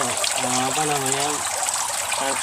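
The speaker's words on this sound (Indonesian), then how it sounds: "dari filter ini nanti akan air yang sudah tersaring ngalir di sini" Filtered water trickling steadily from a spout into a freshwater lobster tank, a continuous close splashing flow with a faint voice briefly underneath.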